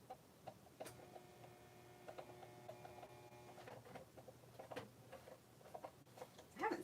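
A sewing machine stitches a straight line on a card. The rapid, faint mechanical ticking runs steadily for a few seconds and carries a soft motor hum.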